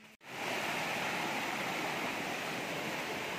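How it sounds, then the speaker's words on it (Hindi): A hidden jungle waterfall pours in a steady, dense roar of rushing water that fills the scene without a break after a brief cut at the start, with no voices over it. "आप लोग को थोड़ा साउंड आ गया होगा वाह पानी का"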